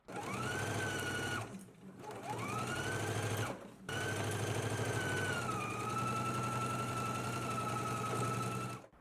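Sewing machine stitching a 5/8-inch seam allowance on a sleeve seam, a steady close mechanical whir running in three long bursts with two brief pauses between them.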